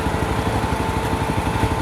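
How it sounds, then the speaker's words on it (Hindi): A Yezdi Roadster 334cc motorcycle exhaust burbles in a steady, close, even rumble, with rapid low firing pulses and no voices over it. "एग्जॉस्ट काफ़ी क्रिस्टल क्लियर है, मतलब बहुत अच्छा सुनाई देता है"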